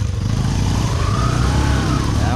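A motorcycle stuck on a muddy road at night revs hard and steadily, its engine droning loud and close throughout with no talk over it.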